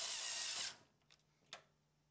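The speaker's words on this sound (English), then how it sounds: "Then secure the card to the case with a screw." A screw driven in by a power driver fastens a video card's faceplate to a PC case, a short, faint whir lasting under a second, followed by a couple of soft clicks of handling.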